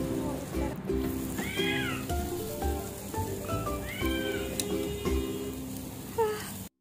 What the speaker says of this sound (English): My small little kitty Bubble is hiding behind the bushes and she looks super cute.